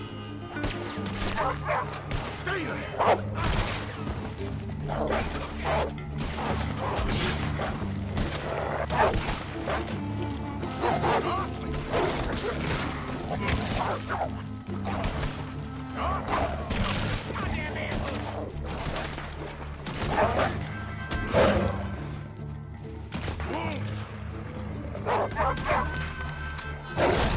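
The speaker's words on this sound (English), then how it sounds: "Damn dogs!" Dogs bark, yip and whimper throughout a tense encounter in the video game Red Dead Redemption 2, layered under dense game noise and occasional gunfire, with someone shouting briefly.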